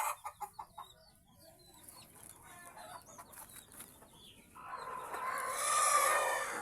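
Mother hens give a run of rhythmic clucks close by, then the sound fades into quieter scratchy farmyard noise before a louder rustling rise at the end.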